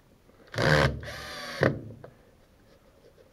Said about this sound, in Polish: Przykręcamy kolejne deski, które muszą wychodzić trochę poza obrys muru.